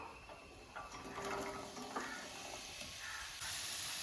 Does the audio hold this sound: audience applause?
no